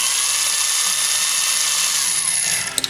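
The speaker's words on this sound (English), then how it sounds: "Now we're gonna Dremel, let her rip." Dremel rotary tool whining steadily at high speed, loud and close, during a Hot Wheels Nissan Skyline wheel swap, ending with a few sharp clicks as it stops.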